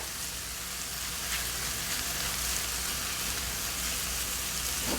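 Garlic sizzles in a pan with mushrooms and onions, a steady close hiss of frying that holds at an even moderate level throughout, with no talking.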